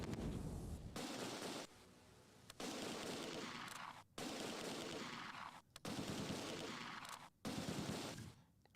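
Gunfire and bazooka shots in the war video game Close Combat 2 come in loud, dense bursts of rapid shots and blasts, broken by several sharp, brief pauses.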